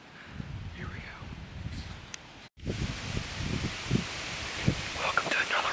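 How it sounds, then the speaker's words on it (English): Strong wind in October woods sweeps through rustling leaves as a big cold front moves in, a steady broadband rush with gusty swells, dropping out briefly mid-way and returning louder, with a few soft crackles. "big cold front moved in, and it's really windy"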